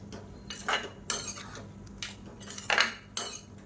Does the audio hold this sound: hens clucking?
no